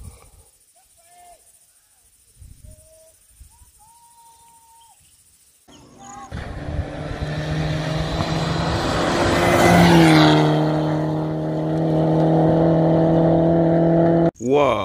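A rally car at the 2021 Bandama Rally in Côte d'Ivoire approaches and roars past up close, its engine note rising loudly, then shifting pitch as it goes by, after quiet waiting with faint birdsong and distant voices.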